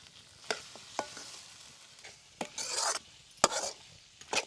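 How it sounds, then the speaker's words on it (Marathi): Mutton sizzling and frying with masala in a pan over a wood-fired clay stove, with intermittent scraping stirs and bursts of hiss, close and fairly quiet. "मसाला चांगला परतून घेतलाय आता टाकूया मटण"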